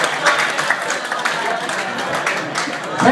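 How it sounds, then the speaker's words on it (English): Applause from a dinner audience at a rugby league club's 100th anniversary celebration, a dense and steady patter of many hands clapping close by, with scattered voices mixed in. "ladies and gentlemen, please, a round of applause"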